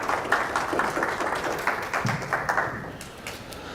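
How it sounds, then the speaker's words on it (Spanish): An audience at a lecture on economic incentives and patents applauds a speaker, a dense, steady patter of many hands clapping for several seconds at moderate loudness. "Un aplauso para el doctor Santiago Roca."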